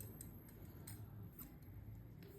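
Scissors trim thread on a punch needle, a few faint, light snips ticking over a quiet room.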